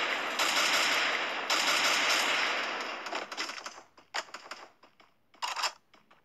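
Video game gunfire during a battle-royale match, loud sustained automatic bursts that break into shorter choppy volleys and scattered single shots toward the end, close and with no talking.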